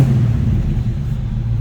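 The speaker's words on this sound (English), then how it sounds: "Great sounding car too." A 1937 Chevrolet Master Deluxe street rod sits idling with its engine running, a steady close, loud low rumble holding throughout with no voices over it.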